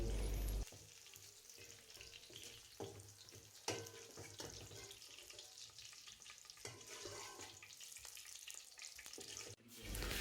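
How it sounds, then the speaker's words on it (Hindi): Onions fry in hot oil with a continuous crackling sizzle, close and even, broken by a few sharper pops and stirring knocks, with no voices. "प्याज फ्राई हो चुके हैं, अब हम प्याज को निकालेंगे।"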